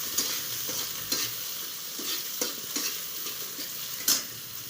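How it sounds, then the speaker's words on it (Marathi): Chopped tomatoes and green chillies frying in hot oil in a pan, a continuous sizzle broken by regular scraping stirs of a spoon, close and fairly steady. "टमाटर टाकते याच्यामध्ये, टमाटर चांगला असं तेलात परतून घ्यायचा गाळा होईपर्यंत"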